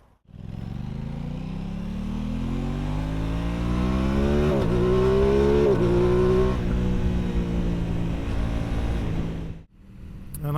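A 2022 Aprilia Tuono 660 Factory motorcycle engine revs hard and close, its steady roar climbing in pitch over several seconds, holding high, then easing off before dropping away abruptly.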